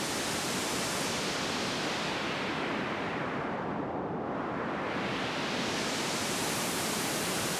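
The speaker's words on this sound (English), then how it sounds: "Let's try running some pink noise through the filters." Pink noise passes through ReaDelay feedback filters, a constant hiss whose bright upper range narrows into a dull, hollow dip midway, then opens back up as the filter sweeps.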